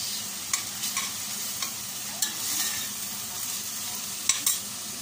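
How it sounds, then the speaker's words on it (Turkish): Onions with a lump of butter sautéing in a steel pot, a continuous soft sizzle broken by several sharp clinks and scrapes of stirring. "Bakın Böyle güzelce soğanla birlikte sotelenecekler."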